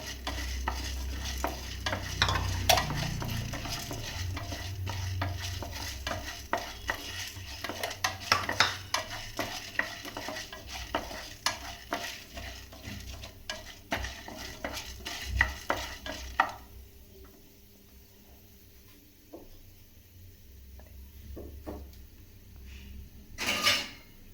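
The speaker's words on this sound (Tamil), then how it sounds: "அதனால் இது இப்போ கருப்பு உளுந்துல நம்ம வறுக்கிறோம்." Black urad dal being roasted in a pan, with continuous stirring scrapes, light dry sizzling and clinks of a utensil against the pan, fading quieter near the end.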